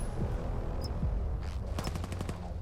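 Automatic AK-12 rifle fire in the VR shooter VAIL, a competitive match: rapid close bursts of shots crackle over a steady game-noise bed, with a denser volley near the end.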